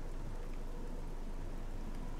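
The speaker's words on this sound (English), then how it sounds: "It's raining." Steady faint rainfall in the video game Oblivion, a soft continuous patter and hiss with no other sounds standing out.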